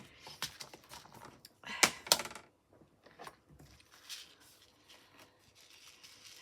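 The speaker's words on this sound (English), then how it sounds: "We're just going to get the scissors." Scissors snip along the edge of a handmade paper Easter shaker card, a few sharp close cuts amid light rustling and handling noises, fairly quiet.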